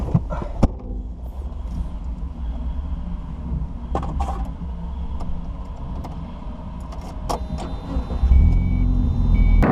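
A 1990s Mazda MX-5 Miata NA small sports car drives along, its engine a low steady rumble under road noise, with scattered clicks and a rise in engine drone near the end; no talking.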